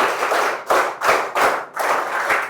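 Students in a classroom clap together in a loud, steady burst of applause, the sound rising and dipping in several quick waves over a couple of seconds, with no talking.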